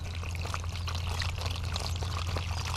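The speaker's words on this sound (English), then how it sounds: "Just add our water to the bottom of the container" Water pours steadily into the bottom of a seed-starting container holding potting mix, a continuous close trickling splash with a low hum behind it.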